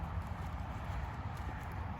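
A horse walks under a rider during a schooling session on the flat, its hooves giving a steady, muffled clip-clop over a continuous low rumble of ground noise, close by and moderately loud, with no talking.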